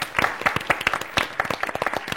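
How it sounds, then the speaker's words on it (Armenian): Game show studio audience bursts into applause for a contestant awarded three points, a dense steady patter of many hands clapping throughout the short stretch. "3 միավոր ծափահարենք։"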